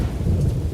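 Rain and thunder from the video game Morrowind: a brief, close, loud low rumble over a wash of rainfall, lasting under a second.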